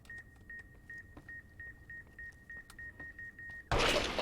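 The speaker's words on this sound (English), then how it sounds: "if we approach the theater, we get beep boops" Electronic security devices beep in Fallout New Vegas, a steady run of short, evenly spaced high tones repeating about every third of a second, faint and alone before a sudden loud burst at the end.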